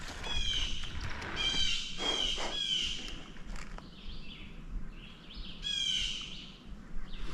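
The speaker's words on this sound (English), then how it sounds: "That bird's making some racket." A bird calls loudly outdoors beside a road, repeated chirping phrases in bursts near the start and again later, over steady outdoor background noise.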